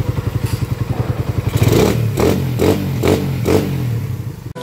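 A motorcycle engine idles with a rapid chugging pulse, then revs up in four strong bursts, loud and close, with no talking.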